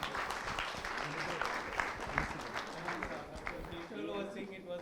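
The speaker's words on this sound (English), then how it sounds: "Big round of applause for the quiz masters." A quiz audience at a lactation and breastfeeding conference bursts into steady applause, a dense patter of many hands clapping throughout before tapering off at the end.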